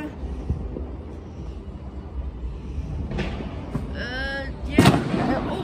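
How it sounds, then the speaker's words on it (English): Distant New Year fireworks boom and crackle sporadically over a low outdoor rumble, with a sharper, louder burst near the end. "I could hear the fireworks, but I just can't see them."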